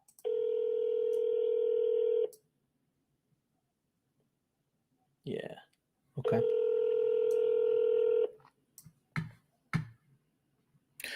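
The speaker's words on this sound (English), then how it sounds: "Let me see if it picks up the phone." Telephone dialing on a call: steady tones sound twice, each about two seconds long, separated by sharp clicks and brief bursts. A voice briefly says a few words near the end.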